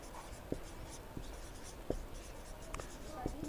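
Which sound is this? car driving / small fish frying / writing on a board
writing on a board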